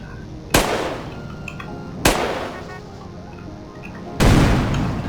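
Three loud booms of cars blowing up in GTA San Andreas, a first-person shooter game, each a sharp blast followed by a decaying rumble, spaced about one and a half to two seconds apart.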